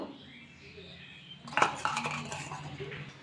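A spoon scraping and clinking against a bowl while stirring semolina batter: quiet at first, then a burst of close metallic taps and scrapes that continues irregularly.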